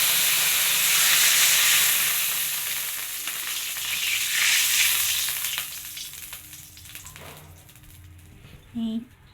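Water is poured into a hot pan of cooking bottle gourd greens, setting off a loud hiss and sizzle that gradually fades into quieter bubbling, with faint clinks near the end.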